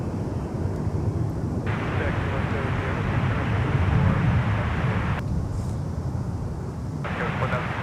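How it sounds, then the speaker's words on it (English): A Delta Boeing 737-900ER airliner at Minneapolis–Saint Paul airport gives off a loud, steady jet roar that fills the whole stretch, while air traffic control radio chatter comes and goes over it. "It's another one of Delta's venerable 737 900 ERs"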